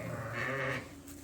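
A sheep on a farm at lambing time gives a single short, close bleat that wavers for under a second and then fades into quiet.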